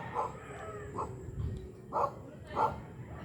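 A dog at a rest house in Boso-Boso, Antipolo barks four times at irregular intervals, sharp and moderately distant, with faint background noise between barks.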